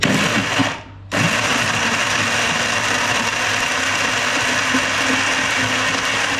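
A mixer grinder whirs loudly and steadily, a brief pause near the start before the motor roars back up and keeps running.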